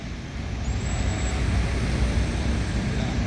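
A silver Al Hijrah Padang bus on a tronton chassis, part of a convoy, rolls past with a steady loud broadband engine and road roar that holds for a few seconds without talk.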